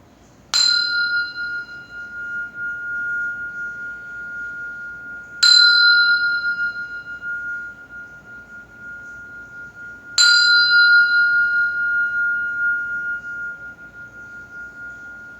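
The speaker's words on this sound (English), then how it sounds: "I'll ring the bell" A meditation bell struck three times at even intervals, each clear bright ring sustaining and slowly fading before the next strike, resonant and alone in a quiet room.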